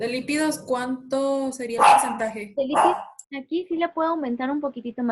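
A pet dog barks and yips repeatedly, loud and close, mixed in with someone speaking Spanish and sometimes drowning out her voice.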